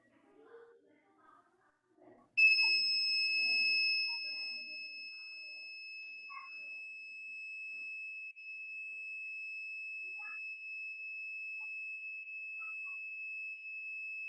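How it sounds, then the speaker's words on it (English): Fire alarm in a school science project display sounds a loud, steady high-pitched electronic tone that starts abruptly after a couple of seconds of faint background chatter and continues without a break to the end. "This is a fire alarm system."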